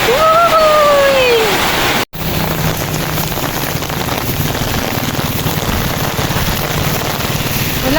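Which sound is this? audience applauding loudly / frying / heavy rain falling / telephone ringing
heavy rain falling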